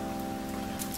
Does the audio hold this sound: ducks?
no